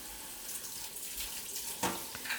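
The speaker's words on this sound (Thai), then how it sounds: "ปลาหมึกนะครับ ก็จะล้างทำความสะอาดด้านในนะครับ ให้เรียบร้อยนะครับ" Fresh squid is rinsed clean under a running kitchen tap, a soft steady stream of water splashing into a sink with small shifts in flow and a brief sharper splash near the end.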